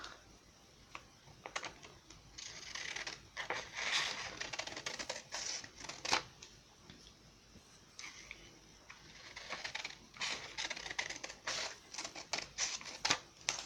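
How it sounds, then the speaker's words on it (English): Scissors snipping strips of paper for making thin paper beads, a close series of crisp, irregular cuts and rustles spread across several seconds, fairly quiet and without talk. "I'll cut off a couple of more of these"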